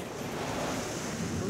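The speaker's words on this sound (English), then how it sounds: "This is the life, rough seas and rain." Rough sea waves and gusting wind in a pirate-themed cartoon scene: a continuous roar of surf with breezy noise that builds slightly, and no speech.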